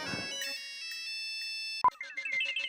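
Phone ringing late at night with a call from the school principal, a quiet electronic ringtone of sustained tonal beeps followed by a short sharp tone and a rising melodic phrase, alone without talk.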